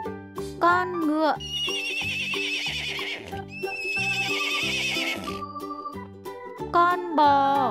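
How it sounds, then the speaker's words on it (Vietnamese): A horse whinnies in long, shrill, wavering neighs, with shorter high calls near the start and end over a steady rhythmic clip-clop background. "Con ngựa."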